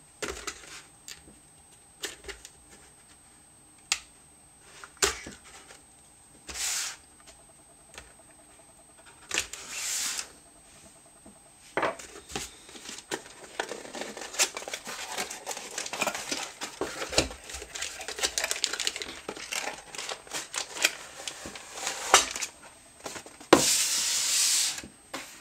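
Packaging for a Silverstone FP58B slim optical drive cover bay is opened up close, with scattered rustling, crinkling and rubbing of plastic and cardboard, busier and denser toward the end.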